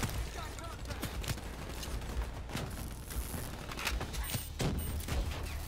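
Gunfire in Call of Duty: Black Ops 3 crackles in repeated bursts and sharp single shots over a steady backdrop of game noise, moderately loud and up close.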